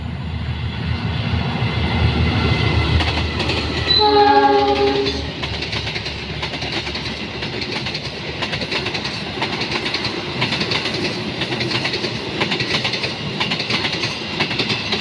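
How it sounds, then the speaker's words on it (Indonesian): A Gajayana passenger train passes at night near Tambun, West Java, sounding a loud horn blast around the middle while its steady rumbling roar carries on through the whole stretch, with no voices. "Ada kereta nih dari arah kiri."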